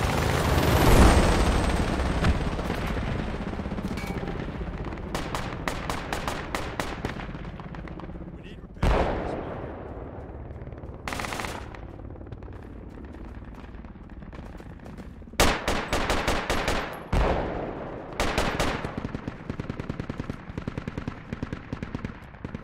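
Machine gun fire in Project Reality during a fight in the hills: long, loud automatic bursts, with sharp single shots and a few heavy blasts in between, come both close and at a distance throughout.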